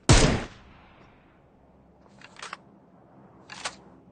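Single-shot gunfire in the mobile battle royale game BGMI: one loud, sharp shot opens, followed by two quieter, spaced shots further off, with no talk.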